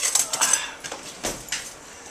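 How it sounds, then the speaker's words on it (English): Metal cutlery clinks and rattles as a butter knife is fetched from a kitchen drawer, a quick series of light, bright taps and scrapes close by. "Let me get a butter knife here."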